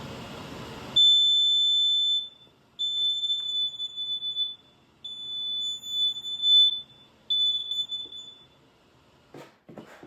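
A plug-in household gas leak detector alarm sounds in loud, piercing, high-pitched electronic beeps. It gives several long pulses separated by short gaps, close by, after a brief burst of rustling.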